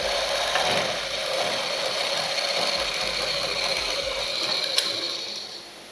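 A sewing machine runs continuously with a close, rattling mechanical whir while stitching the lining of a blouse, a steady motor drone that slows and fades at the very end.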